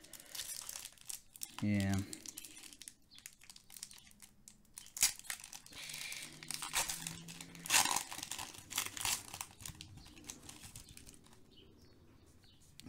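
Pokémon Astral Radiance booster packs being torn open, with crinkling foil wrappers rustling close by and a person talking intermittently.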